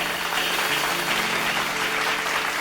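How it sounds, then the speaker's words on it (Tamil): Members of a congregation at a Tamil Sunday church service clap together in a steady, full-room burst of applause that continues evenly throughout. "கைத்தட்டுங்க."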